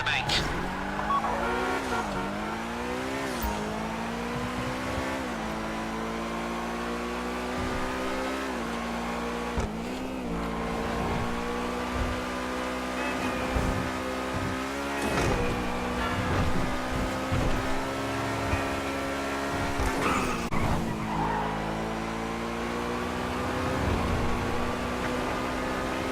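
A car in Grand Theft Auto V revving and shifting through gears as it drives, engine tone climbing and falling, with brief tire squeals and skids; game dialogue plays over it at times.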